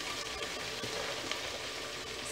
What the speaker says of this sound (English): tunaenda kuongezea cabbage yetu ndani